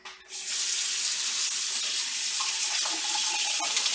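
A kitchen sink tap opens and runs for hand washing, a loud, steady rush of water close by that begins after a brief handling noise and keeps going unbroken.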